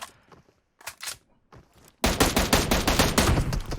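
Rapid automatic gunfire in the video game PUBG Mobile, a few scattered shots first and then a dense, loud sustained burst of close fire.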